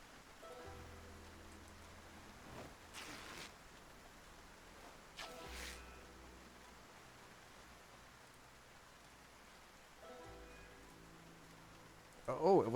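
Soft, steady rainfall in the Project Zomboid video game, a faint continuous hiss broken by a few brief louder rustles and a short sharp bump at the end, with no talking.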